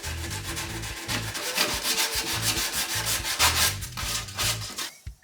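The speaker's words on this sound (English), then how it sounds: "And then sprinkle a bit of sawdust on. And then just rub it in." Close, rhythmic rubbing and scrubbing strokes on a wooden crate as glue and sawdust are worked into the wood, a steady back-and-forth friction sound with no talking.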